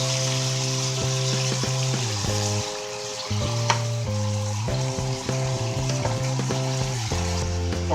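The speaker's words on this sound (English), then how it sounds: "Got this ground beef already in here. Got it going, it's doing this thing, right?" Ground beef frying in a pan for a homemade beef bolognese, a steady close sizzle running throughout with occasional stirring scrapes and a musical tonal hum layered underneath.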